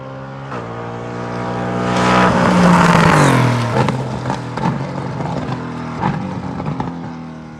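A race car accelerates past on the track, its engine climbing to a loud roaring peak as it passes close, then falling away into revs and gear changes that fade into the distance.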